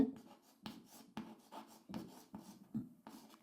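Chalk or marker strokes on a classroom board during a Bengali-language lesson, a series of distinct scratchy bursts in irregular rhythm, close and clear with no talking.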